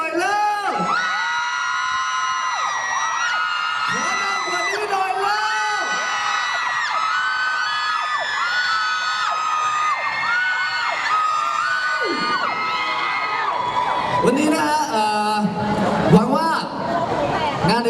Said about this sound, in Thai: ขอฟังเสียงกรี๊ด